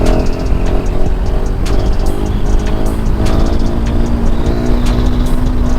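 KTM 1290 Super Duke R motorcycle accelerating hard at speed, a loud, continuous engine roar with rising harmonics, heavy wind rush and brief gear-change dips.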